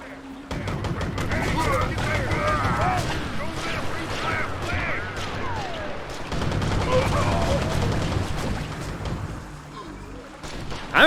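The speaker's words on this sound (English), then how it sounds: "They said the turret would auto-fire." A turret auto-firing in Oddworld: Stranger's Wrath, a steady stream of rapid shots crackling on and off amid game noise, with a person talking over much of it.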